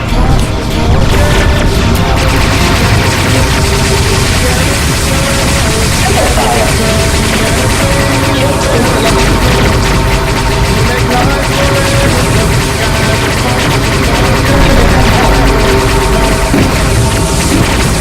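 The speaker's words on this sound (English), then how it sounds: "I would appreciate it if you would stop shooting those giant lasers" Giant laser shots blast without pause in the Drunken Robot Pornography video game, a loud, dense barrage of booming, crackling fire that fills the whole stretch.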